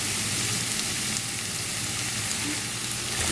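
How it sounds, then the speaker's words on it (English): Beef stroganoff sizzles steadily in a pan as it is stirred, a dense, even frying hiss heard up close and alone with no talking. "Just stir that around in the pan."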